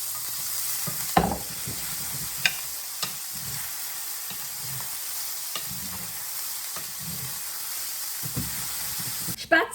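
Spätzli frying in fat in a pan, a steady sizzling hiss with occasional stirring scrapes and clinks throughout, close and fairly loud, and no talk.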